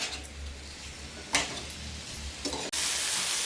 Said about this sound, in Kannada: ಇವಾಗ ನೆಕ್ಸ್ಟು ಟೊಮೆಟೊ ಬೆಳ್ಳುಳ್ಳಿ ಕೊತ್ತಂಬರಿ ಮೆಣಸಿನ್ಕಾಯಿ ಹಾಕೊಂಡು ಎಣ್ಣೆಲಿ ಹುರ್ಕೊತಾ ಇರೋದು